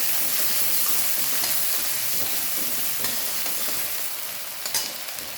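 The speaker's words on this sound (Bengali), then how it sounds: "এবার ওই কালো জিরে ফোড়নের মধ্যে দিয়ে দিলাম পেঁয়াজটা" Onions frying in a pan of nigella seed tempering, a loud steady sizzle with brief stirring scrapes toward the end and no talking.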